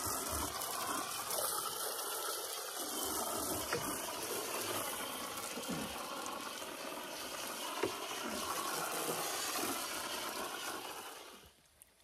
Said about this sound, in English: I'm gonna do the engine flush now.